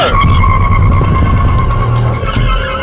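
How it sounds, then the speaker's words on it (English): A Datsun Go and a Suzuki S-Presso launch off the line in a budget-car drag race, with loud, close engines revving hard and a faint tire squeal over the whole burst. "Good start by the Go. Good launch from the Espresso."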